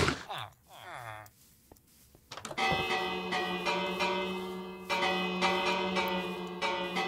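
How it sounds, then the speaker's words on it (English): A bell in Minecraft rings repeatedly in quick succession, its metallic tones stacking into a sustained clanging wash that stays loud and close, with a brief pause before the ringing resumes. "he's spamming that bell"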